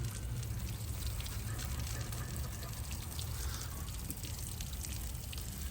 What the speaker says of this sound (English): now we got some water coming out of the motor